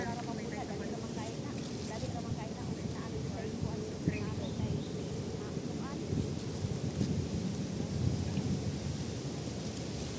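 Steady, blustery cold wind roars and buffets the microphone throughout at an outdoor hangout spot, with voices faintly talking beneath the continuous rushing noise.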